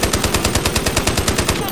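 An automatic rifle fitted with a muzzle brake fires one fast, continuous burst of evenly spaced, loud shots in the shooter game Ironsight.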